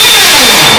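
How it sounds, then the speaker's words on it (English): A hammer drill bores into wood in a short, loud burst of harsh buzzing with a dense, rattling texture. "Oh, it was on a hammer drill."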